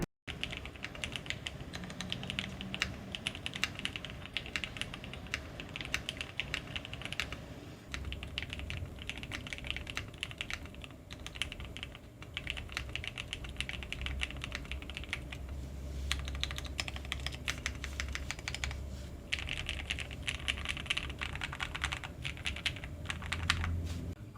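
Typing on a Cidoo V65 mechanical keyboard with gasket mount and aluminium case, a steady close stream of soft clacky keystrokes at a quick, uneven pace, with brief pauses and no talk.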